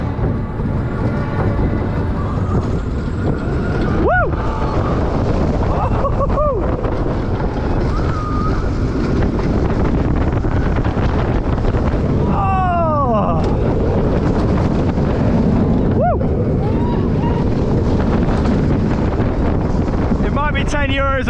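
Heavy wind buffeting the microphone throughout a ride on the Olympia Looping roller coaster at Vienna's Prater, a loud, constant roar with brief shrieks and whoops from riders cutting through.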